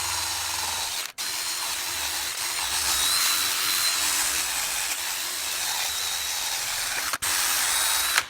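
Hand drill spinning a wire brush against a wheel rim, a loud, continuous close-up whirring hiss, broken by two brief pauses.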